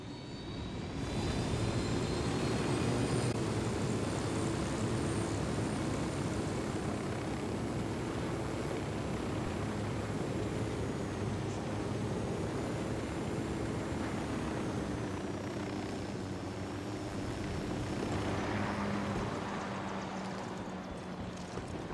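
Aircraft in the video game Ghost Recon Wildlands, a steady loud engine drone with a low rumble held throughout, swelling slightly near the end, with no talk over it.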